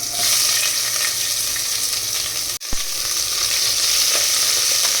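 Onions fry in hot oil in a pan for a biryani, giving a dense continuous sizzle and crackle, close and loud, broken by one sharp knock of a utensil midway.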